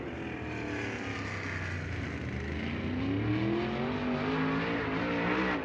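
Sprint race cars run on track during qualifying at Lucas Oil Speedway in Kubota High Limit Racing, a steady engine roar with a rising revving tone that swells slightly, heard alone.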